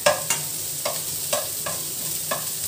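Tomatoes frying in a pan beside chicken wings, a steady sizzle broken by regular scraping strokes of a spatula about every half second, close and clear with no talking.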